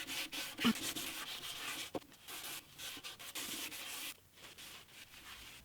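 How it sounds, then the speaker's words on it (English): Wet sandpaper rubs across the finished top of an antique parlour guitar, a soft continuous scratchy friction with a few brief knocks, close and fairly quiet. "pre-wetted sandpaper"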